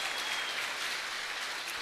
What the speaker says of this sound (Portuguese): Palmas para o Luiz.